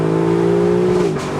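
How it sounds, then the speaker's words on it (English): A naturally aspirated V8 in a 2021 Lexus LC 500 Convertible revs hard toward redline, its steady loud harmonic roar climbing and then easing off near the end as the throttle lifts, with no talk over it. "So you have to rev it out like that to make it feel fast."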